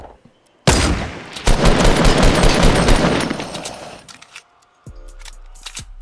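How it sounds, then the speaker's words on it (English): Sniper rifle gunshots in a Fortnite battle royale match: a loud, sharp blast that rolls into a long, sustained roar lasting several seconds before it fades, followed by quieter game clicks and scattered pops. "I shot him with a sniper"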